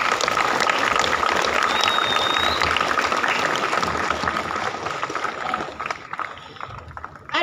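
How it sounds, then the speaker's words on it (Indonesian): A crowd of students and staff at a school Scout Day ceremony applauds in a dense, steady wash of clapping that holds loud for several seconds, then thins slightly near the end. "Tepuk tangan dulu semuanya."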